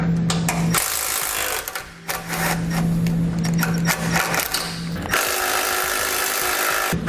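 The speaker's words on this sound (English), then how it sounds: "We'll grab a 13mm socket and we'll pull all those bolts out." A power tool with a 13mm socket spins out the bumper beam bolts on a 2015 vehicle, giving loud continuous whirring bursts with short pauses between bolts, up close and with no talk.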